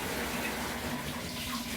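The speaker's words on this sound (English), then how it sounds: "Warm up the water. Turn the cold down." Tap water gushing into a tub to bathe a dog, a steady, close, continuous splashing rush with no talk over it.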